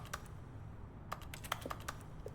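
Keyboard key clicks from a computer keyboard, pressed with the X key during play of the video game The Stanley Parable; a few sharp, close taps scattered irregularly over a quiet background, with no talking.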